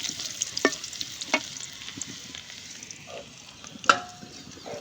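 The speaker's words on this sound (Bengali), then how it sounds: "আমের আচার, গত বছরের আমের আচার দিয়ে দিচ্ছি তেলের মধ্যে।" Last year's mango pickle frying in hot oil in a pan, giving a steady soft sizzle with a few sharp clicks and scrapes of stirring, close and fairly quiet.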